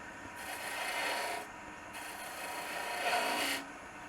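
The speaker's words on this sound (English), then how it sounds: "And then we're going to come in and do a peeling cut." A beading and parting tool takes a peeling cut on spinning wood at the lathe while turning a biscuit cutter, giving two close, steady rasping bursts separated by a short pause.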